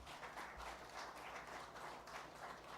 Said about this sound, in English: Can we have a big round of applause for the chief mentor of the ISPL